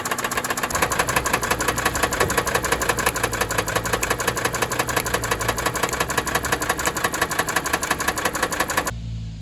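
A car engine idles steadily with a loud, persistent rhythmic knock while Motor Medic engine flush circulates, close-up and continuous until it cuts off near the end.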